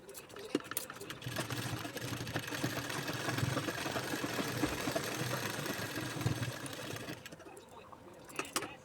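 An electric sewing machine runs a continuous stitching pass on a small-size blouse, a steady mechanical whir that holds for several seconds before stopping, with a faint voice in the background.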